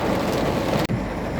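Steady rain pours on a hilly rural route near rice paddies, a dense, even hiss with a brief dip in the middle, with no voices.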